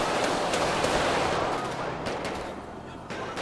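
Dense, continuous gunfire in GTA 5 during a police gang unit patrol, a loud sustained wash of rapid shots with a voice briefly under the din.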